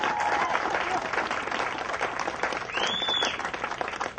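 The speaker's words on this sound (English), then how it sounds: "That's worth some applause." Applause from a crowd at a Relay For Life cancer fundraiser meeting, sustained dense clapping of many hands, fairly loud and even, with a brief tonal squeal partway through.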